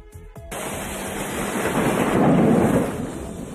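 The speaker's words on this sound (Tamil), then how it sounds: "கோவையில் திடீரென இடியுடன் பெய்த கனமழையால் தாழ்வான பகுதிகளில் தண்ணீர் சூழ்ந்தது" Heavy rain with thunder in Coimbatore, heard as a clap of thunder followed by a loud, steady roar of downpour that swells and rolls for several seconds, with no voices.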